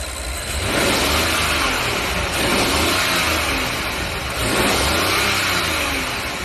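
Rolls-Royce 6.75 litre twin-turbo V12 revved repeatedly, a smooth, steady engine roar that rises and falls in three broad swells, close and continuous with no talking.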